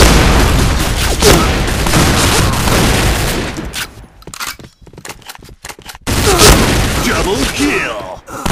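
A grenade blast goes off in the Project Blackout shooter video game, heavy and loud among dense gunfire, with a few seconds of quieter crackle before the noisy battle resumes.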